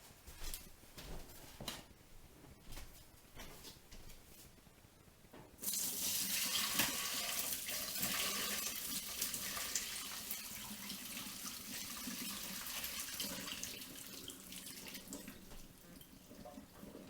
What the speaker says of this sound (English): when I drain it, I want to put a bowl underneath here to catch a little bit of the water.